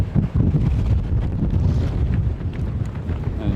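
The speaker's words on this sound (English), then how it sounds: "there's our wind, 13 knots at 30 to 40 degrees" Wind at about 13 knots buffets the microphone aboard a sailboat under mainsail, a loud continuous low rumble with gusty fluctuations and no speech.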